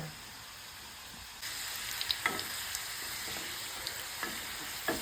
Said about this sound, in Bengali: এখন নিমকিটা ভাজছি